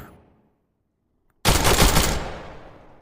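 Gunfire during tactical assault shooting training: after a second of near silence, one loud, close blast hits and rolls off in a long decaying echo.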